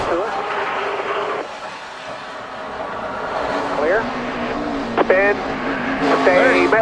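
A NASCAR stock car spins out during a 2011 race, tires squealing in rising screeches over a steady roar of engines, while a voice talks throughout.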